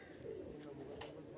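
Pigeons kept on a rooftop give soft, low cooing, quiet and close, in a short burst.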